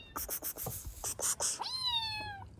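A small kitten meows once with a long, high, gently falling cry, preceded by close rustling and clicking handling noises, recorded indoors at close range with no talk.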